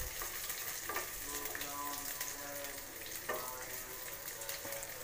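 Slit green chillies frying in browned masala for a Punjabi-style tori aloo sabzi, a steady close sizzle broken by a few stirring scrapes, with no talking.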